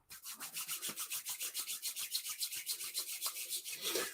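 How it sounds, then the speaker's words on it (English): Hands rubbing together briskly with a liquid worked between the palms, giving a steady rhythmic swishing of about five strokes per second, close and fairly faint, with no talking. "I'm rubbing it in my hand."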